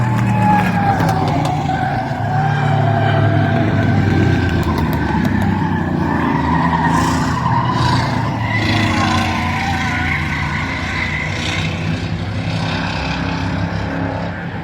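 Bomber class race cars roar through a heat race at a track, a dense, loud, continuous engine drone with shifting pitch as cars pass, no voice audible.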